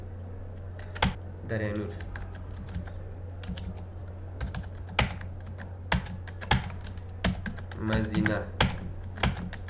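Quick irregular clacks of keys on a computer keyboard come in bursts while text is typed into MS Word, close and crisp, with someone speaking in between the keystrokes.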